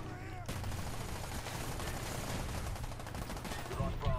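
Rapid automatic gunfire from the video game Call of Duty Black Ops, a weapon with a 48-round magazine emptied in one sustained burst, loud and dense throughout with a heavier thump near the end.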